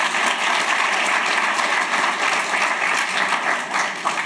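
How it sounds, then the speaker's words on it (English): Sustained audience applause for presenters at an early education innovation pitch event, a dense, steady wash of many hands clapping throughout with no pauses. "Can we just get a round of applause for all of them?"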